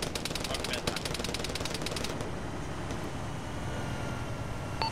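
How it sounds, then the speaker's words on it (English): Rapid automatic gunfire rattles in the ArmA military game played by ShackTac, a fast burst of machine-gun shots for the first couple of seconds, then a lull with a couple of distant single shots under faint voice chatter. "Where's that guy that's shooting at you?"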